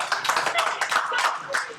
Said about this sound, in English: But warm applause again for the 2nd time this afternoon.